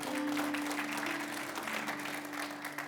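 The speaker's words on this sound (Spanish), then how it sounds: "Denle un aplauso al Señor porque Él es bueno." A church congregation applauds in worship, a steady mass of clapping that is fairly soft and roomy. A sustained low musical tone, like a held keyboard note, hums beneath it.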